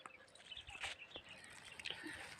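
Birds gathering for scattered grain chirp faintly in scattered short calls, a few sharper tweets standing out against quiet outdoor background.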